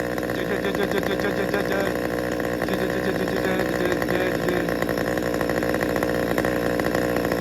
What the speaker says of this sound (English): you can hear it wants to come up and idle.